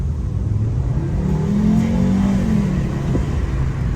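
A Volkswagen Golf 6 2.5-litre engine rumbles steadily up close, its pitch rising briefly as it revs, then settling back to idle.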